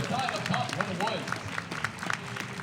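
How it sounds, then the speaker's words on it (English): Scattered applause from an audience rises and falls beneath a person talking, with individual claps audible through the mix. "All that clapping you hear is, of course, from the other stream"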